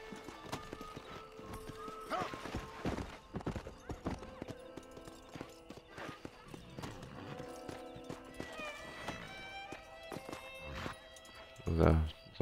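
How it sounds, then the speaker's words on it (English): A horse in the video game Red Dead Redemption plods with steady clip-clopping hooves and gives a sharp whinny near the end, heard beside in-game sounds and a voice talking over the gameplay. "There's a horsey."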